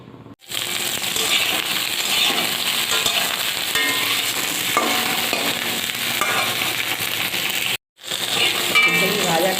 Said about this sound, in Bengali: এবার সবজিগুলো ওই তেলের ওপর আমি দিয়ে দেবো